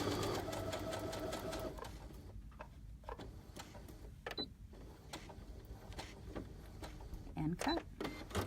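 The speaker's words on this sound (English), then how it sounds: "Do my reinforcement stitch." Sewing machine running a reinforcement stitch while piecing fabric, its needle chattering in a fast close-up burst, then pausing before shorter bursts of stitching, with a few mechanical clicks in between.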